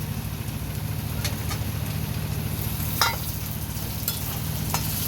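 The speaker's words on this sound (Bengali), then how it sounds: "এবার আমি ভাজা আলুটা এর মধ্যে দিয়ে দেব।" Fried potatoes stirred into sizzling mutton kosha in a pan, with steady frying hiss throughout and a few scraping stirs of the spoon; no talking.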